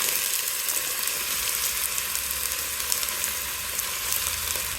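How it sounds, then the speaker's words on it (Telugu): Bottle gourd pieces fry in hot oil for a sambar, giving a steady, even sizzle of moderate loudness that holds throughout with no voices over it. "నూనె కాగింది, సొరకాయ ముక్కలు వేసేద్దాము"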